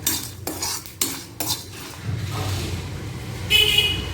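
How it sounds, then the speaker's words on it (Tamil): Masala spices and poppy seeds roasting in a pan for veg biryani, with scraping and stirring clinks of a metal spoon against the pan and a soft sizzling crackle underneath, close and moderately loud. "நல்லா கசகசா எல்லாம் வறுத்த வாசம் வரும், நல்லா பொரியிற சவுண்டு கேட்கும்"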